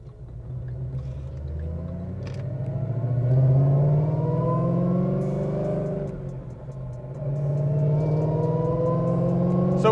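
A 1200 rwhp 2014 Ford Mustang convertible revs through a U-turn, its deep engine rumbling steadily and rising in pitch as the throttle opens, loud and close with no talk.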